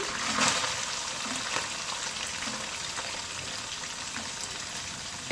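Chopped onion goes into hot oil spiced with cardamom, cinnamon and bay leaf, frying with a steady close sizzle after a brief louder burst at the start, no talk.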